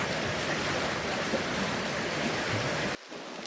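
Forest creek water rushing steadily along a branch near the Lakelse River in northwest British Columbia, a loud, close, continuous broadband wash that cuts off abruptly near the end.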